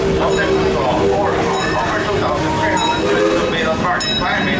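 The mine train roller coaster at Six Flags St. Louis rumbles along its track with clanking cars and squealing wheels. Riders' voices and shouts carry over the steady, loud ride noise throughout.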